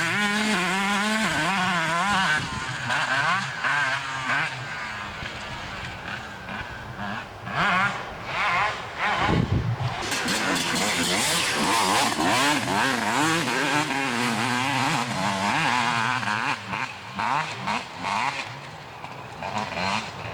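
Motorcycles ride around an outdoor spot in southeastern Massachusetts, their engines rising and falling in repeated revving sweeps, fairly close and loud, with no talking.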